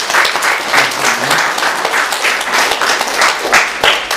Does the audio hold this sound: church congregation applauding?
yes